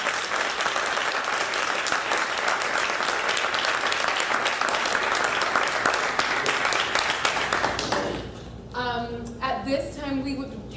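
An audience at an evening reading and play event breaks into loud sustained applause filling the room for about eight seconds, then the clapping fades and a voice begins speaking.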